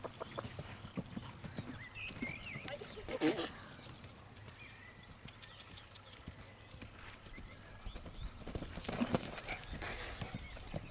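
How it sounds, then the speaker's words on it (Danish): A horse's hooves clop in an uneven walking rhythm on a hard surface, fairly close, with a couple of louder knocks and soft voices and outdoor sounds in the background. "Den hest er også lidt dum"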